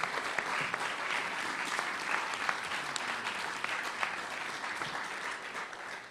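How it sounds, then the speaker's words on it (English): A luncheon audience at the National Press Club gives a sustained round of applause during the Gerald R. Ford Journalism Awards, a dense, steady wash of many hands clapping at even loudness for the whole stretch. "please now give them your round of applause"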